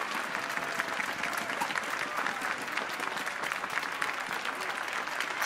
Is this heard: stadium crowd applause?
yes